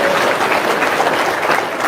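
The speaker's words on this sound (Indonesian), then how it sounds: "Tepuk tangan dong." An audience claps steadily and densely for the full two seconds. The applause is loud and continuous, with no pauses and no voices over it.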